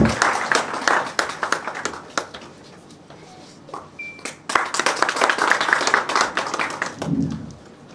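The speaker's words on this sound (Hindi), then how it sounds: "पुरजोर तालियां हो याकूब भाई के लिए" Audience at a Women's College event in Baramulla applauding, bursts of close, crisp clapping that dip briefly midway and swell again, loud throughout.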